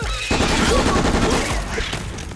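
Sustained rapid gunfire in the zombie shooter video game Resident Evil: Operation Raccoon City, a dense close stream of shots with a low rumble that keeps going for the full short stretch.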